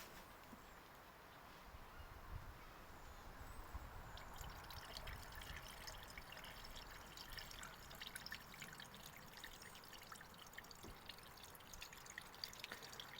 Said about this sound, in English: So let's pour in the washer fluid.